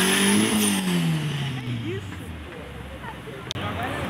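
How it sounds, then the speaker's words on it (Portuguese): A BMW M3 accelerates with a rising engine note that fades as it pulls away through busy city traffic at a square in Curitiba, with someone talking over it. "Ó, uma BMW aí, uma M3. Ah, então acelera."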